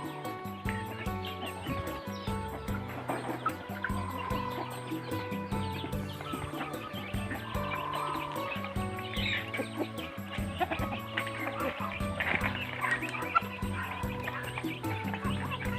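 Burmese chickens kept free-range beside a house cluck on and off through a busy farmyard din, with other animal calls and a tonal background running underneath at a moderate, fairly even level.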